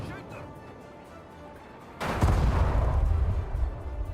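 Mortar fire in the game Sudden Strike 5 opens as a sudden heavy boom halfway through, followed by a rolling barrage of blasts over quieter game ambience and a spoken voice.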